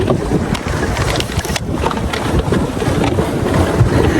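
Motorboat on a Pune boating club lake doing a burnout, a loud continuous churning roar of engine and splashing water with rushing wind across the microphone.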